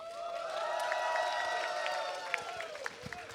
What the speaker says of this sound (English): Can we get a cheer for Rudge?